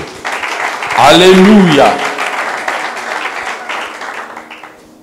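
A church congregation bursts into applause for the word of God, loud and dense for about a second and then tapering into scattered clapping, while a voice sings and calls out over it.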